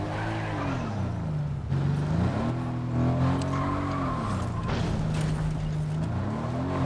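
A car in the Fortnite video game drives with a wavering engine drone and tire squeal. The pitch rises and falls over several seconds, loud and close, with no talk.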